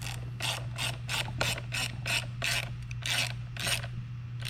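A hand ratchet tightens the top bolts on a Onewheel+ XR electric skateboard, giving about ten crisp, close clicking strokes in a steady rhythm over a low constant hum.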